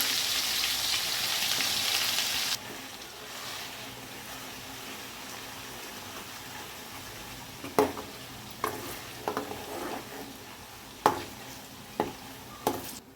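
Ginger garlic paste frying in a pan for mutton pickle: a brisk hiss at first that settles into a softer sizzle, followed by a series of distinct ladle knocks and scrapes in the second half, no speech.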